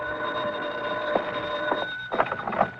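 A telephone rings in an old-time radio detective drama, a bright electric bell tone repeating in short bursts with steady tonal hum beneath, fairly close and alone without talk.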